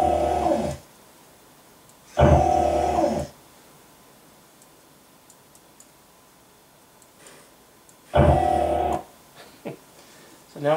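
A Brookstone USB missile launcher toy runs with its sound effects switched on, giving loud buzzing motor bursts of about a second each, three times, separated by quiet gaps with faint ticks.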